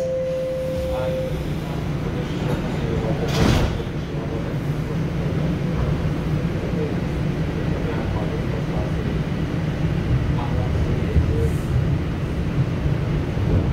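Toronto subway Line 4 train: a brief chime is followed by a thud of doors closing over the steady rumble of the train interior.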